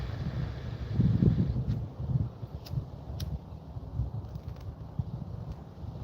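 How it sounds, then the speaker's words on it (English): Gusty wind in bitter cold buffets the microphone with low rumbling bursts, strongest early on, then continuing in uneven surges. "It's getting very windy."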